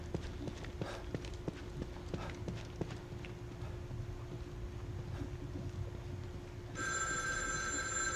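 An old analog telephone rings in The Evil Within 2, a bright steady ring starting abruptly near the end, after a stretch of rhythmic hollow knocks over low ambient rumble.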